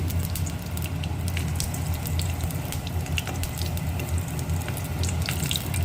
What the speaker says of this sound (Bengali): এখানে ফোড়ন হিসেবে দিয়ে দিলাম পাঁচ ফোড়ন